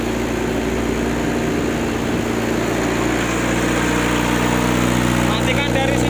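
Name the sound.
BA05 brick press machine running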